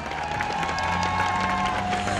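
A crowd at a rally applauds and cheers throughout the short stretch, the clapping dense and moderately loud, with a steady tonal hum underneath.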